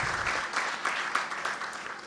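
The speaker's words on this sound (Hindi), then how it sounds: "तालियां बजाई जाए।" An audience at a Hindi poetry gathering at an institute in Hapur claps in a dense burst of applause, fairly loud and steady for a couple of seconds before easing slightly.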